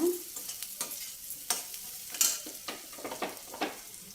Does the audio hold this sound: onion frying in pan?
yes